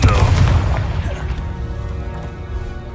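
A Confringo fire spell bursting in Hogwarts Legacy, a heavy booming blast at the start that rolls off into a long rumbling decay.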